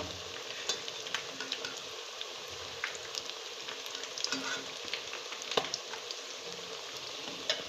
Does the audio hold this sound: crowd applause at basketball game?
no